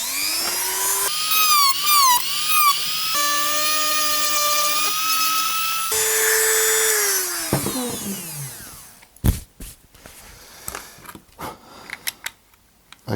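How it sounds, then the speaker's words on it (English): High-pitched whine of a Dremel rotary tool grinding down airsoft magazine parts, its pitch climbing and falling as the load changes, followed by scraping and clattering handling noises near the end. "So I'll take those down with my Dremel for time"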